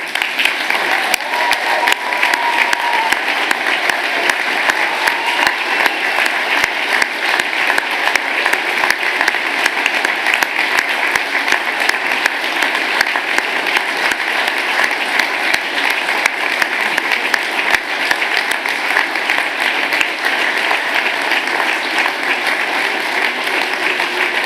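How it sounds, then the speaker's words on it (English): A large audience at a Dublin university degree ceremony applauds the graduates, a steady, even roar of many hands clapping that holds at full strength for over twenty seconds without a break. "applause."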